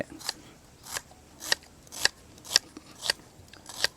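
Red onion being thinly sliced with a knife for a spicy salmon salad, seven crisp evenly spaced cuts about every half second, close and distinct over quiet kitchen background.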